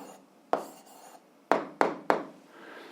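Writing out the answer to a seventh-grade algebra exercise: four sharp, scratchy strokes land at uneven intervals, close and fairly quiet, with no talking.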